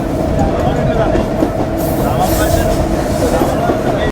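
Mongla commuter train running fast on a local line, a loud continuous rumble and rattle of carriages with rhythmic wheel clatter, heard from inside the coach, with a brief hiss of rushing air midway.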